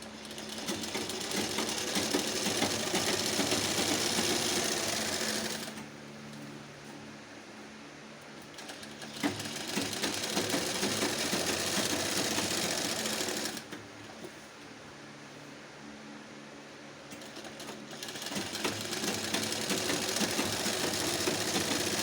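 Sewing machine stitching a half-inch joining seam on patiala pants, running loud and steady in bursts of about five seconds with short quieter pauses between runs, no talk.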